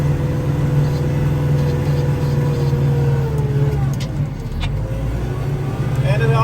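A Kubota tractor's engine idles steadily in snowy cold, a low continuous drone heard from inside the cab with brief mechanical noises layered on top.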